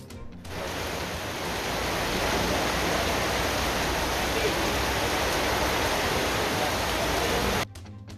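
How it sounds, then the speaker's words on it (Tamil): Heavy rain at midnight in Villupuram district, a dense, even roar of downpour that swells slightly and holds steady before cutting off near the end. "விழுப்புரம் மாவட்டத்தில் நள்ளிரவிலும் நீடித்த கனமழை."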